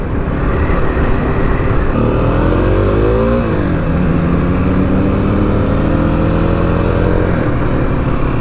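A 2021 Kawasaki KLX300 dual sport motorcycle ridden on a road, its engine droning loudly and steadily with pitch rising and falling through shifts, wind noise throughout, no talking.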